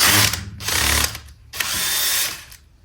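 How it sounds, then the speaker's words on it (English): A power drill bores a hole through a wall in two loud, close bursts, each whirring for about a second, with a brief quiet gap between them. "Then I'll drill me a hole in the wall down there."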